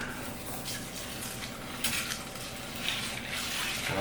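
Soft clinking and swirling of a spoon stirring a sugar and salt pastrami marinade in a pot, steady and close, with light scraping sounds and no talking.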